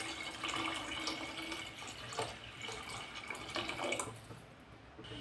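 Water poured into raw rice in a cooking pot at home, a steady close-up trickle and splash that runs for several seconds at low level, with no talk.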